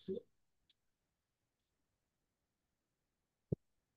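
A few sparse, sharp keyboard clicks entering a command into the Amadeus airline reservation system, a quiet room with a short bit of speech at the start and one louder tap near the end.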